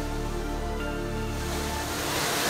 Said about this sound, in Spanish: Puede venir a disfrutar de esta hermosa cascada en la comarca Nuevo Buglé.